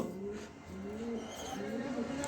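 Domestic pigeons coo close by in repeated low, rolling phrases that overlap one another over a quiet background.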